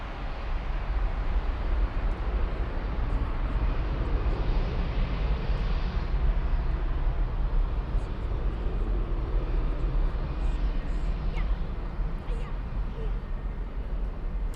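Lufthansa Airbus A321-200 airliner at Frankfurt airport, a steady distant jet engine rumble and whine, with a person talking over it.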